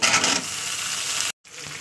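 Potatoes tipped into hot oil over onions fried until browned give a steady, dense sizzle close by, cutting out briefly near the end before resuming.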